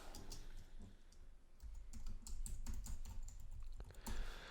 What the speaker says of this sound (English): We're going to type the whole line,